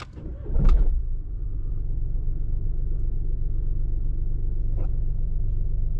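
A Mini Cooper D F55 with a B37 diesel engine starts with a brief cranking burst and then settles into a steady, low, rumbling idle, close by and alone.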